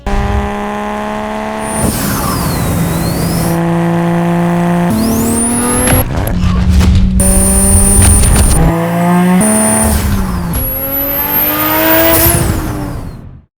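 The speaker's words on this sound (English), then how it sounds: "Between the blow-off valve, the turbo, the induction noise, exhaust note." A wide-body Datsun 280Z with an RB25 turbo engine swap revs hard through several gear changes, turbo whistle and blow-off valve hiss sitting over a loud exhaust note, close and without talk.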